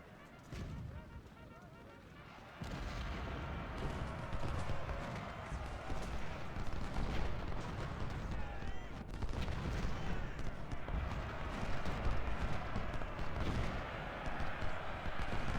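Distant artillery booms and massed rifle fire in the Ultimate General Civil War strategy game at Salem Church, a dense continuous rumble of battle noise that swells after the first few seconds and continues throughout.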